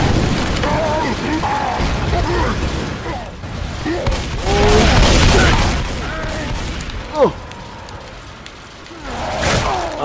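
Thrown explosive detonating in Left 4 Dead 2 during a rainy Hard Rain mutation, a loud sustained rumbling blast with crackling bursts over heavy rain noise, with voices shouting over it.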